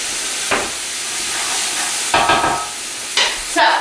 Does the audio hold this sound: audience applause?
no